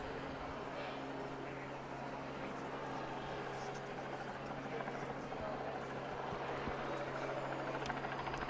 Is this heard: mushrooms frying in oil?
no